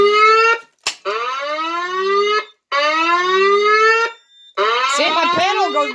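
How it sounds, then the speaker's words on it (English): A custom-built 950I-S24s fire alarm panel sounds a loud electronic alarm tone in three long pulsing bursts separated by short gaps, each with stacked harmonic sweeps, and the last burst turns rougher and more broken. "my panel goes back to beeping again"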